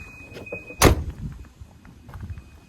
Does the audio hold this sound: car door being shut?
yes